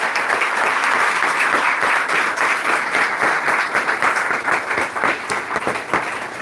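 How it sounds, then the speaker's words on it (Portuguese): Steady, full applause from the congregation at a closing Mass of the Salvista General Chapter, sustained and loud throughout with no talk over it. "Uma salva de palmas aos irmãos e às irmãs."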